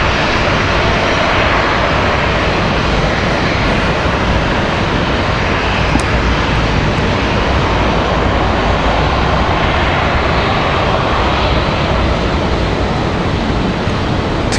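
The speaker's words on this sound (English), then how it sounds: "Next arrival is going to be Spirit Airlines from Newark, New Jersey." A Spirit Airlines Airbus A321 airliner arriving from Newark at Raleigh-Durham airport, its loud, roaring engine noise filling the whole stretch as a broad, constant wash close by with no talking.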